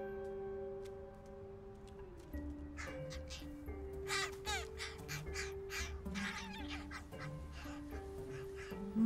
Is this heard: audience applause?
no